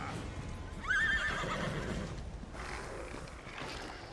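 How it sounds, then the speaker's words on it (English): A horse in the Elder Scrolls Online Elsweyr game gives one loud, clear whinny with a falling pitch over a dense bed of game ambience and rumbling noise. "Yeah, horse."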